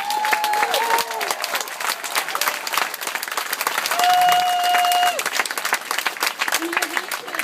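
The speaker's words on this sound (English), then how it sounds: "we also want to give a special round of applause to our fifth grade" A school auditorium crowd applauds the fifth grade teachers at a promotion ceremony, a dense steady clapping throughout, with a voice and a few whistles or tonal sounds rising over it.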